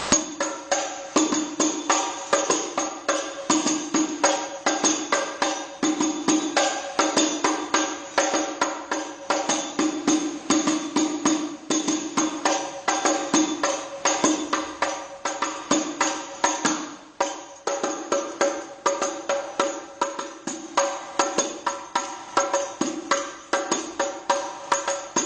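Hadroh frame drum struck in a steady dung-teng pattern, with crisp rapid hits repeating evenly for a long stretch. The beats sound close and alone, with no voices over them.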